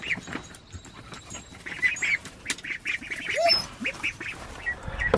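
Young ducks quacking repeatedly at close range as they go outdoors for the first time, short scattered calls over a quiet background with some rustling.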